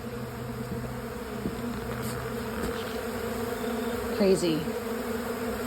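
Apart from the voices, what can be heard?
swarm of thousands of honey bees buzzing around honeycomb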